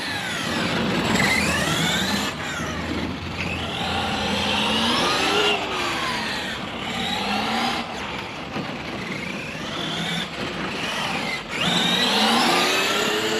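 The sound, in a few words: RC car motor revving at full throttle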